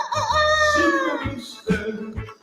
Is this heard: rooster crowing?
yes